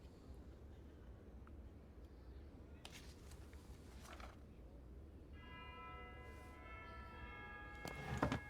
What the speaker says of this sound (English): the bell literally chimes the Fire Emblem theme